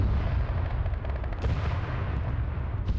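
Booming tank gunfire from a Middle East armor-only video game battle, a dense, continuous low rumble of cannon and gun reports with a sharper crack near the middle and another near the end, no talking.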